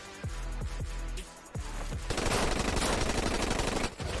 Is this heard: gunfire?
yes